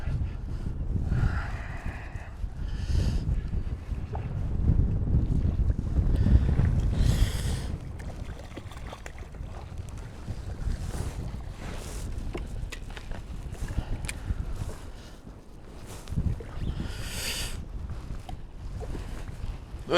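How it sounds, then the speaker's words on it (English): Gusty wind buffets the microphone out on the sea at Whitley Bay during kayak fishing, with rushing surges, water splashing against the hull and occasional knocks and creaks, loud and close throughout. "Welcome to a windy Whitley Bay!"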